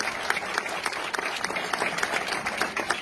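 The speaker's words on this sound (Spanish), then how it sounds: "Por favor, un fuerte aplauso para él." Audience applause at the II Iubilum Carthaginensis music event in Cartagena, a dense, steady wash of many hands clapping at once, fairly close and sustained throughout with no talk over it.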